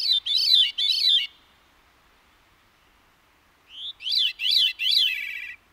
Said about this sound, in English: many songbirds can create harmony without another bird to back them up